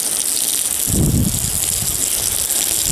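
Water gushing from a hose onto garden plants, a steady broadband rush with a heavier low splash for a moment near the middle, continuous and close throughout.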